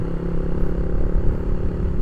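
A motorcycle that has been repeatedly taken apart and rebuilt makes an odd noise: a steady, close engine rumble with a faint rattling clatter running through it, with no pauses.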